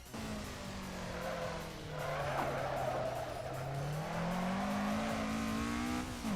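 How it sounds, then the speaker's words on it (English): Tires squeal steadily as a car spins its wheels exiting a hairpin in Assetto Corsa, the engine droning low and climbing in pitch as it accelerates, close and continuous. "be careful with the wheel spin on corner exit"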